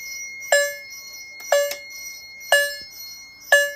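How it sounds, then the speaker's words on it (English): Fire alarm system chimes sounding in march time, sharp bell-like strikes landing about once per second, each ringing briefly and decaying over a quiet background. "set the system to march time because I'm curious how it's gonna sound"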